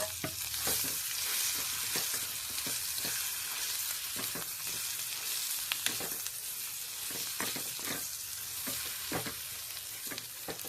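Chutney with a pinch of asafoetida cooking in oil in a pan, continuous bubbling sizzle with frequent spatula scrapes in an uneven rhythm, close and alone.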